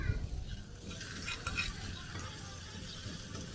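Fish going into a pot of curry cooking in a Bangladeshi home kitchen, giving a steady sizzling and bubbling with light stirring and faint utensil clinks throughout.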